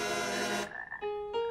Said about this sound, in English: You must get rid of these frogs.